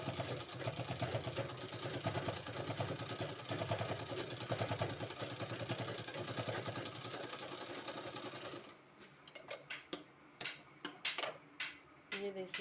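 A sewing machine runs steadily for about eight seconds while stitching a kurti sleeve design, a close, continuous whirring hum that stops abruptly, followed by a few scattered clicks and handling knocks of the fabric.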